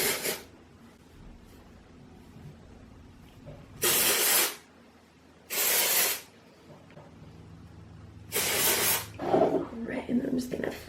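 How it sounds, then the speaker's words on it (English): R+Co Balloon dry volume spray is sprayed into hair from underneath in several short, airy hissing bursts separated by quiet pauses, the last burst longer and rougher. "I'm just going to take sections and spray into my hair from underneath."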